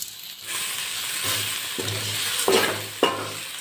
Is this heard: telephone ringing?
no